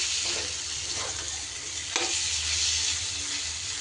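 Chicken with green jackfruit slow-frying in a pan over lowered gas gives a steady close sizzling hiss, broken by a few soft stirring scrapes and clicks, with no voices.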